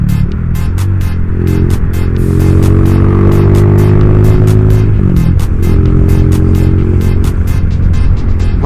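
Honda GL motorcycle engine running, with a loud continuous hum and throbbing exhaust that steadies, dips in pitch midway and then settles again, heard up close with a rapid ticking beat.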